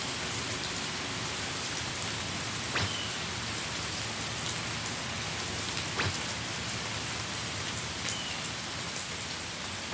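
Pouring rain falls over a lone tombstone in a Dragon Ball anime scene, a dense, steady hiss that continues evenly throughout, with a few faint sharper drips and no voices.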